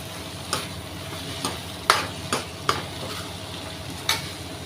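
Spiced vegetables sizzle in a pan with coriander powder, stirred by a utensil that makes several sharp clicks and scrapes against the pan at irregular intervals over a low, steady frying hiss.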